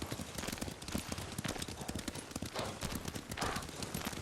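Horse hooves clip-clop at a steady riding gait in the video game Ghost of Tsushima, a continuous rapid patter of hoofbeats with a faint snort or whinny, fairly quiet and without speech.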